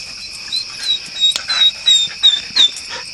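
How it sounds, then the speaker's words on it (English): Dogs at a night camp bark and whimper at owls calling overhead around 2 a.m., in short, repeated close bursts over a constant high chirring of insects. "The dogs think they need to protect whatever. They don't know, they're just owls."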